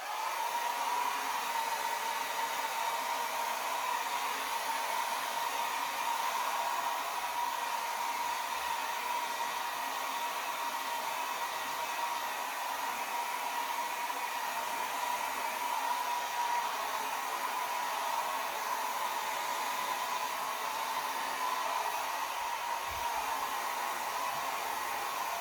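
A hair dryer blows white acrylic paint across a canvas in a steady, close, continuous whoosh with no pauses, running alone without talk throughout.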